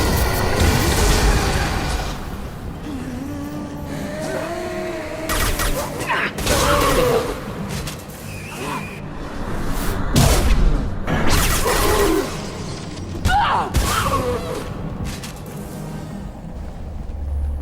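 Loud explosions of high pressure tanks in Mass Effect 2 sound in several separate blasts and whooshes amid combat noise, with a voice briefly heard between them.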